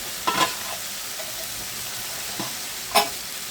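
Shing fish curry with tomato being stirred in a pan, a steady background sizzle broken by a few brief scraping strokes of the spoon, with no one talking.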